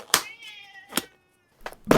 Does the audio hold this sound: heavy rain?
no